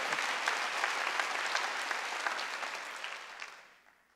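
A church congregation claps during a Wednesday worship service, a dense, steady wash of many hands that holds evenly and then fades out toward the end.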